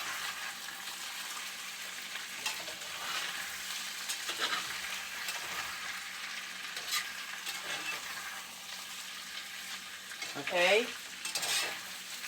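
Steak and kidney pie filling cooks in a pan with a steady, soft sizzle and occasional stirring scrapes, with a brief louder clatter near the end and a single short spoken word.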